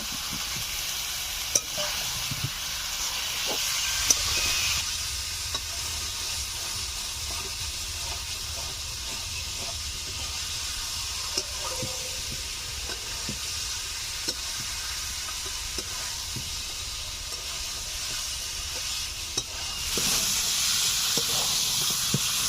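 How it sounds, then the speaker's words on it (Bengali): Chicken curry with fried small potatoes sautéed in a wok, a continuous close sizzle and hiss with occasional sharp scraping stirs throughout. "ভেজে রাখা আলুগুলো দিয়ে ভালোভাবে কষে নেব"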